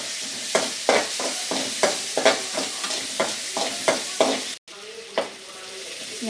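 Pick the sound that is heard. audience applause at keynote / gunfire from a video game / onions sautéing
onions sautéing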